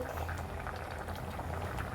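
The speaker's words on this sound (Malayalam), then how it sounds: "പച്ച വെളിച്ചെണ്ണയാണ് കേട്ടോ ഞാൻ ഒഴിക്കുന്നത്" Coconut oil poured into a simmering curry seasoned with turmeric and chili powder, a steady low bubbling and liquid rush filling the whole short stretch, close and even, with no voices.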